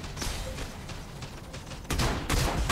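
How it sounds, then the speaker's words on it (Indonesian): AK-46 gunfire in the mech combat game Mech Arena, rapid bursts of shots growing louder toward the end, partly masked by a dense background of battle noise. "dalam item ini juga kita tembak pakai senjata AK-46"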